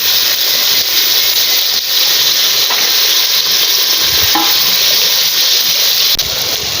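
Country chicken gravy ingredients sautéing in a hot pan, a loud steady sizzle and hiss filling the whole stretch, with faint stirring scrapes now and then.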